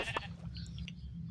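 In Minecraft Bedrock, a sheep gives a short, close bleat that lasts only about a second over a steady background hum.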